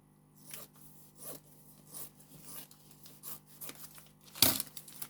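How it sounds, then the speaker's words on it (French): Scissors cut open a plastic-wrapped package holding a paint-by-numbers kit, with soft rubbing and snipping sounds close by and one sharp crinkling cut near the end. "Je vais prendre des ciseaux, je vais l'ouvrir pour que vous voyez avec moi ce qu'il y a."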